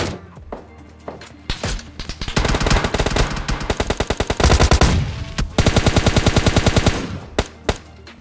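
PUBG Mobile Lite gunfire in a solo versus squad match: single loud shots open, then long rapid automatic bursts rattle close and loud, pausing briefly before another sustained burst and a few final shots.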